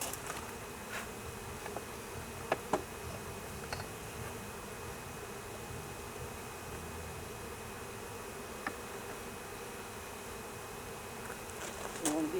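Honey bees buzz steadily around an open hive during a colony split, a low continuous drone that holds at moderate level throughout, broken by a few faint handling knocks.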